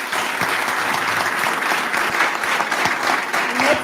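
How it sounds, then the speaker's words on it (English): An audience gives a round of applause at a wellness talk event, with dense, continuous clapping throughout. "Please, can we have a round of applause"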